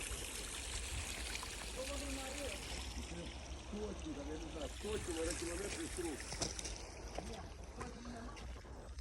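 Water running out of a drainage outlet near a well, a steady low rushing flow heard outdoors, with people talking over it in the foreground.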